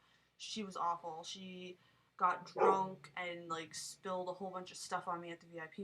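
Dogs bark intermittently in the background while a person talks continuously over them.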